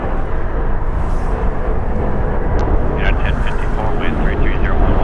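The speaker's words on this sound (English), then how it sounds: "Landing in the north is Delta Airlines. Flight 2253, coming in from Las Vegas, a 43-minute flight. It's an Airbus A319," Delta Airlines Airbus A319 landing at LAX, a loud continuous jet roar with a person talking over it.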